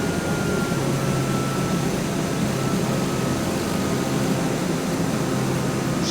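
A light aircraft on landing approach to Lukla with flaps and gear down produces a loud, constant engine and airflow roar, close and unvarying for the whole stretch, no talk over it.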